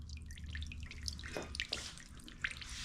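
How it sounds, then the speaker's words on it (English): Liquid drips in small, irregular drops as it drains out of a Dewalt 3400 psi pressure washer, faint and close against a low background hum. "I'm gonna go ahead and let the rest of it drain out of there"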